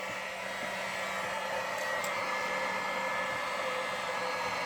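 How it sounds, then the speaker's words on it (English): A temperature-adjustable heat gun runs with a steady, loud airy whoosh and motor hum, blowing continuously without pause while working on a wiring splice under the dash of a 2009 Jeep Wrangler. "I use a heat gun that I can actually set the right temperature"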